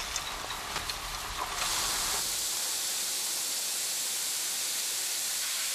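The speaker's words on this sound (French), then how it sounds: "Elle est arrosée en permanence par les eaux des égouts." Sewage water sprays steadily onto a worm composting tank filled with peat and pine bark, a loud continuous hiss that swells after a short rougher patch and then holds even to the end.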